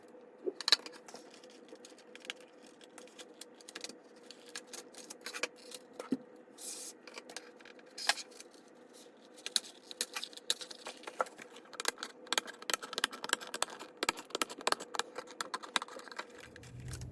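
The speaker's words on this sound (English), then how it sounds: "it was really easy to cut with scissors" Scissors snipping through pen tray material to trim it down to size, a run of short crisp cuts and clicks, sparse at first and then coming faster and closer together, close by with no talk.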